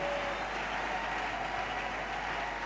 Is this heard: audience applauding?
yes